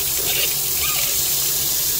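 Water gushes steadily over an orchid mount, a continuous hissing splash like a running tap, close and unbroken throughout.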